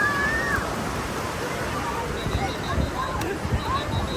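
Sea waves wash in at a beach in Anza, Agadir, giving a steady broadband surf and slosh, with distant crowd babble and voices mixed through it.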